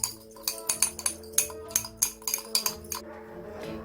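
Ingredients for a homemade vitamin A essence being stirred in a glass container, a rapid series of bright close clinks and taps as the utensil strikes the glass, about a dozen strokes in a steady rhythm.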